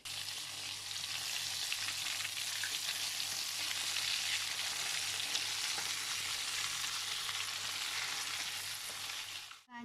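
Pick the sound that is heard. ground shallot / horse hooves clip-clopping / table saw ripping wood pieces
ground shallot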